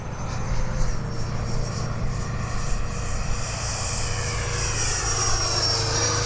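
A Freewing 70mm ME 262 RC jet flies a pass with its gear down, sending out a continuous, loud ducted-fan whine and roar that holds steady throughout with no talk.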